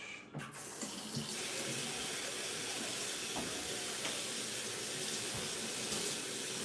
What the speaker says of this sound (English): Just a quick rinse. Nice and washed.